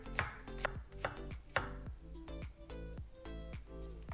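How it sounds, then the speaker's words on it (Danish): A knife slices a halved small red onion lengthwise on a board, giving a run of crisp, evenly spaced chopping taps, close and fairly quiet, with no talk. "Pil et lille rødløg, halver det og snit det fint på langs."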